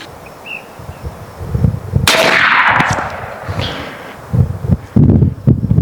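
An AEA Megalodon .50 caliber pump-action airgun fires a single loud, sharp shot with a ringing decay. Quieter mechanical clicks and knocks come before and after it.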